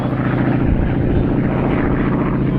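A Harvard 2B propeller aircraft flying at the RAF Cosford airshow, its engine producing a loud, steady droning roar throughout with no talking.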